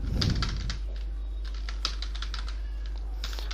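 Quick bursts of computer keyboard keystrokes while entering data into an Excel sheet, clicking in uneven clusters over a steady low electrical hum, close and clear with no speech.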